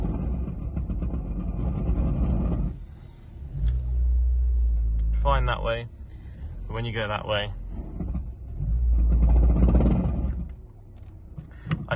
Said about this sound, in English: you can hear the noise that it does make when it's in reverse